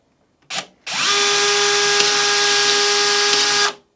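A DeWalt XR brushless PEX expander, model DCE410, runs alone at close range after a brief start blip: a loud, steady, whining motor drone with a faint ratcheting tick, holding evenly for about three seconds before cutting off.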